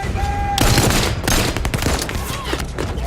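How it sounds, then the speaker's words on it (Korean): A close, loud volley of police gunfire in the Detroit film: many overlapping rapid shots burst out, pause briefly, then crack again in a second ragged barrage. "명확한 사태 파악도 없이 깃발치듯 퍼붓는 5인 사격"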